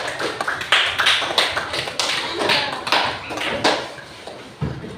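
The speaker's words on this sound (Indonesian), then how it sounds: "Alhamdulillah, tepuk tangan semuanya." A classroom group claps for several seconds, with irregular bursts of sharp hand claps that come and go and a few faint voices mixed in.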